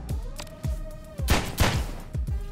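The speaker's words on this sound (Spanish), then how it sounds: "Le disparo." Gunfire from the John Wick Hex video game: several sharp, punchy shots spaced across the moment, each with a thumping low end and a brief crackling tail, heard close and fairly loud with no talk over them.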